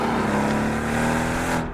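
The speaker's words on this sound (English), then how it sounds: "The engine noise sounds fantastic." A powerful Aston Martin Vantage engine, an AMG unit, hums steadily at close range with a deep, even drone, then cuts off abruptly at the end.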